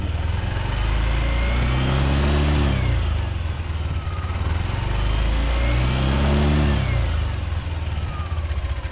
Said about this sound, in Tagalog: Bigyan natin ng konting rev.